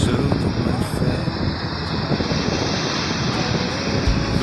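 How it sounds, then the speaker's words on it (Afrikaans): Ocean waves break and foam over rocks in a loud, continuous roar, with wind buffeting the microphone throughout and no voices. "Wit skuim rol oor die rotse, klank van kabbelende water"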